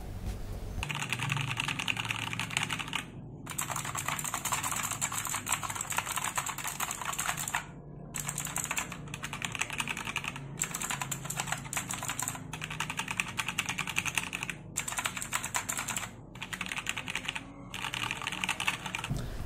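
Rapid typing on a wireless mechanical keyboard with blue switches produces loud, crisp clicking in quick bursts, broken by a few brief pauses between runs of keystrokes.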